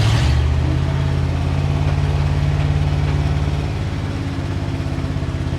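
A 1962 Ford C750 cabover truck engine runs at about 2,000 RPM while driving, a loud, steady low throbbing drone heard close from the cab, easing slightly in loudness toward the end.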